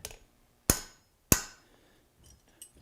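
Two sharp, ringing hammer taps on the back of thin metal, close and loud with a short decaying ring, followed by faint light clinks.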